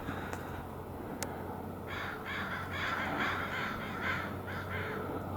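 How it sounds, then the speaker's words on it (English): A flock of crows caws overhead beside a road in Concrete, Washington, a burst of repeated harsh calls, fairly close, over outdoor background noise. "that giant murder of crows just flew over my head screaming at me."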